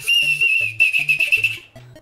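Emergency whistle for summoning help in a disaster, blown in a steady shrill tone lasting under two seconds, close and alone.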